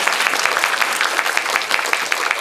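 An audience at a Korean film talk for the movie Hunt, with actors Lee Jung-jae and Jung Woo-sung, claps steadily, a close, loud, even burst of applause with no pause.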